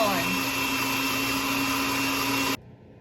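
An electric hand mixer whirs steadily through egg yolks and cream cheese, loud and close, then cuts off abruptly near the end and leaves a quiet room.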